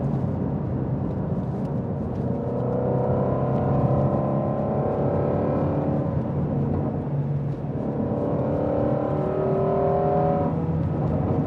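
A Ford Mustang Shelby GT350R's engine revs up through rising pulls on the road, dipping between gears around the middle before climbing again, loud and close inside the car with no talk.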